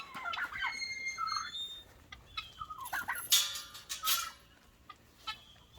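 Farm chickens cluck and squawk at dinnertime, a busy run of close, bright clucks and calls coming in irregular bursts with no talk.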